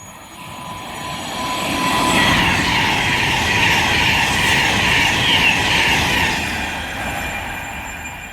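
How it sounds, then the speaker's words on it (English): A Virgin Pendolino electric train passes at speed on the West Coast Main Line at Hartford, bound for London Euston, a loud sustained rushing roar that swells and fades, with a faint two-tone horn near the start. "next train to pass, I should have said, is going to be a Virgin Pendolino bound for London Euston"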